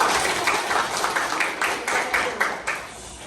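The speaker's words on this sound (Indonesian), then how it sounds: "Oke, tepuk tangan." A class of students breaks into a few seconds of scattered, continuous hand clapping, fairly close and moderately loud, with no voices.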